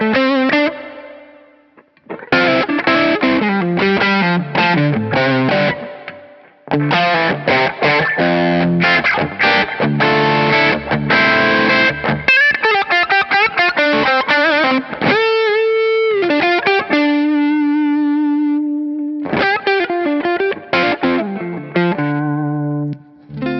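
Electric guitar played through the clean channel of a Soldano Astro 20 amp with a Cornerstone crunch pedal, giving a bluesy, mildly overdriven tone; loud, continuous chords and single-note lines with short pauses, no voices.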